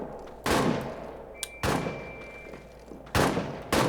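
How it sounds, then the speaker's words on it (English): Suppressing gunfire in the trench warfare video game All Quiet in the Trenches: loud, sharp shots or short bursts at uneven intervals, each cracking hard and trailing off quickly, with a faint thin tone lingering between them. "So, general suppression fire."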